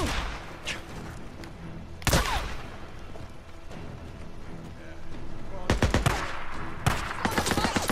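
Rapid gunfire from a PDW submachine gun in the video game Days Gone, several loud bursts spaced across the clip, with sharp cracks near the start, middle and end over steady background game noise.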